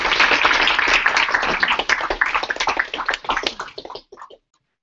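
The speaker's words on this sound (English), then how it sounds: "Round of applause, please." Workshop audience applauding at the close of a data governance and visual analytics session, a dense burst of clapping that thins into scattered claps and stops, leaving silence.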